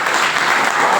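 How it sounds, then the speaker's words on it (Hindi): Loud, steady applause from an audience at a protected-cultivation farming training session, sustained clapping filling the whole second with no voices over it. "जोरदार ताली"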